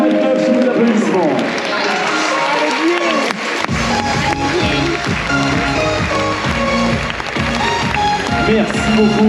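Crowd applause and cheering for the 25-29 age-group podium at an Ironman 70.3 triathlon, swelling into loud, steady clapping under music and an announcer's voice.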